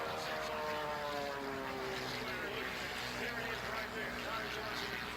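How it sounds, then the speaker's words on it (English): A homebuilt unlimited aerobatic competition plane flying at an air show, its propeller engine droning steadily and loudly throughout with rising and falling pitch as it maneuvers, while a commentator talks over it. "It's an unlimited aerobatic competition aircraft, and he flies it very, very precisely"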